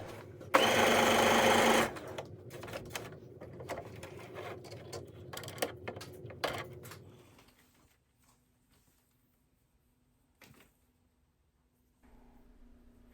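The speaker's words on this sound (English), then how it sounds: "I'm sewing down both sides of the seam that I'm going to open so the liner is still in place." A sewing machine runs down both sides of a seam on a thrifted top with a lining, a loud burst of fast stitching followed by shorter stop-start runs that trail off into near silence.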